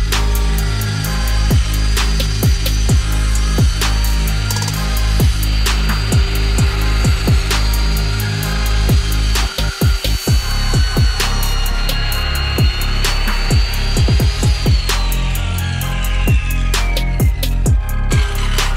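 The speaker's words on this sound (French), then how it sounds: "on vient avec la scie circulaire faire une découpe parfaite" A circular saw cuts through a glued panel of reclaimed wood, a loud whining motor hum laced with gritty rasping that runs on and then winds down in pitch near the end.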